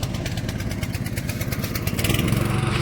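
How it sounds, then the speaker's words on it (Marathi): A farm machine engine runs steadily in a field during maize cob work, with a continuous close, rough drone that grows slightly louder toward the end. "या ठिकाणी प्रसाद मशीन चालू केलं आहे"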